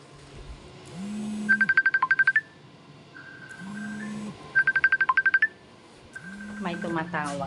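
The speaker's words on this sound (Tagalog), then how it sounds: "May tumatawag." A phone rings with an incoming call in a home kitchen, repeated bursts of a trilling electronic ringtone alternating with short low tones, while a voice talks faintly underneath.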